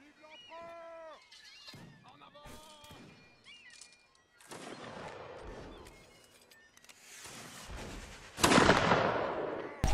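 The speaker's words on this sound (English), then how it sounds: "Someone's using the artillery." Cannon fire in the Napoleonic-era game Mount & Blade: Napoleonic Wars, fought aboard ships, with a couple of heavy booming blasts and rumbling crashes, the last one loud and close, mixed with voices and in-game noise.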